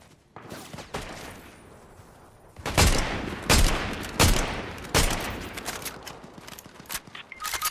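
Gunfire in the video game Fortnite crackles in several sharp bursts, a few scattered shots then four or five loud volleys in quick succession, with quieter game noise between them.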